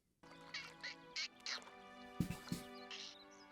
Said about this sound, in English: Turtle duck?